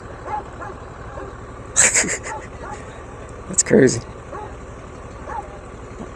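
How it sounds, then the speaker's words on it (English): A dog barks twice, in two short bursts a couple of seconds apart, over steady road and engine noise while someone talks. "Why would she slap the dog just for barking at me?"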